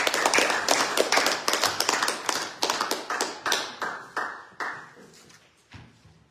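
A small church congregation at a fellowship Sunday service claps for a song performance, a sparse group of distinct hand claps that gradually slows and fades into silence.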